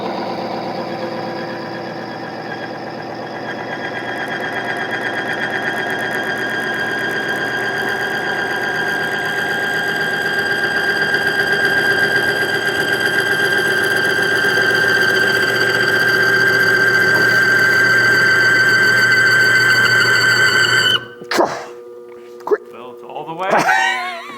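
A BG MOA bearing demonstration machine running with an old engine oil sample, a loud, steady mechanical whine and squeal that builds for about twenty seconds, then cuts off abruptly, followed by a few clunks and rattles.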